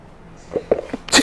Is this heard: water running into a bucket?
no